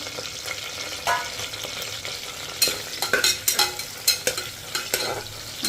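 Onions hitting hot oil in a tempering for mutton curry, a loud steady sizzle and crackle broken by a run of scraping stirs and clattering spoon strokes against the pan.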